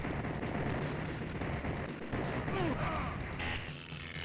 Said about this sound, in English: Use my machine gun flamethrower again.